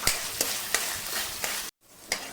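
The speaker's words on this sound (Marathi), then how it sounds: "आता याच्यामध्ये आपल्याला बारीक चिरलेला कांदा टाकायचा हा मीडियम साईजचा कांदा आहे हाही छान मऊ होईपर्यंत आपल्याला परतून घ्यायचे" Finely chopped medium onion sautéing in a pan, a continuous bright sizzle broken by several rhythmic spoon scrapes and a short silent gap, heard up close with no speech.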